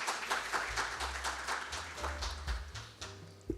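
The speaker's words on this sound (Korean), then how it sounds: "여러분 뜨거운 박수로 맞이해 주시면 감사하겠습니다" Audience applause welcoming a police official to the podium at a financial crime prevention policy seminar, faint scattered clapping from a seated crowd with some low thumps and room noise.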